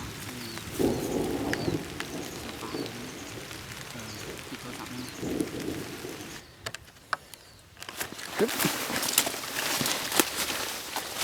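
Steady rain patters and hisses, with a brief quieter lull, then heavier rain returns; birds call faintly in the background.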